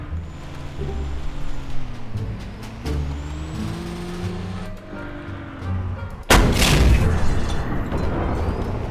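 An XM8 tank in a video game fires a single loud cannon blast that booms and rolls on for several seconds after a stretch of low engine rumble and clanking.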